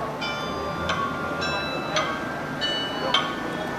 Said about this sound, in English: we've got the church bells going.